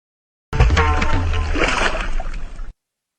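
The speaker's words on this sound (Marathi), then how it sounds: "ए गाडवा अरे देवाला पाणी टाकलं वय रे" Water poured and splashing over a shrine idol in a farm setting, one sudden splash followed by roughly two seconds of sloshing, close and loud, no talk.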